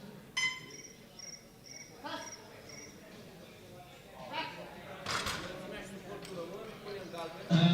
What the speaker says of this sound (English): There seems to be some sort of giant cricket in the room by the sounds of things.